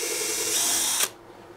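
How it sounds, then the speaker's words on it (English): A power drill whines steadily at high speed while boring a 1/8 inch hole into a wooden dowel for a simple bird feeder, loud and close, then cuts off abruptly about a second in. "drill an 1/8 inch hole"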